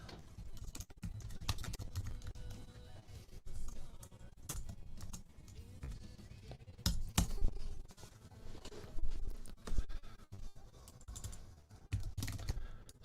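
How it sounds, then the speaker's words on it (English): Steady typing on a computer keyboard, rapid irregular key clicks with occasional louder taps and brief pauses, close up with faint background sound. "So I'm just actually typing something out."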